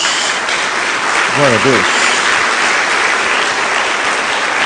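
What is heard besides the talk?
congregation applause in church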